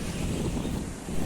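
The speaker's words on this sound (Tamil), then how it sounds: "அப்படியே பிரிட்ஜே ஷேக் ஆகிற அளவுக்கு தண்ணி ஃபோர்ஸாக வந்துட்டுருக்கு." The flooded Palar river rushes under a bridge in Kanchipuram after rain, forceful enough to shake the bridge. It makes a steady, broadband roar of turbulent water mixed with wind buffeting the microphone, continuous and fairly loud.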